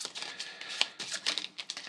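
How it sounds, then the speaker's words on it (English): A deck of customer cards from the Moonshine Empire board game being shuffled by hand, a rapid run of crisp riffling flutters and soft card slaps in quick bursts, close and fairly loud with no talk. "So shuffle the customers all up."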